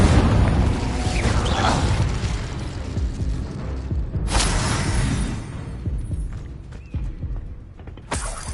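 Incendio fire spells cast in Hogwarts Legacy: two sudden broadband bursts of flame, one mid-clip and one near the end, over a busy rumbling game soundscape with creaking, mechanical texture.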